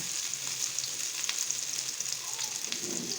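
Chicken and chana dal shami kebabs fry in hot ghee in a pan, giving a steady close sizzle with crackling pops throughout, no talk over it.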